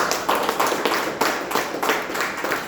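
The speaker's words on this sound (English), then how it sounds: "Shall we give a round of applause to everybody?" Applause at a Toastmasters club meeting, a small group clapping in loose bursts with clearly separate hand claps, close and fairly loud, rising and easing in uneven pulses.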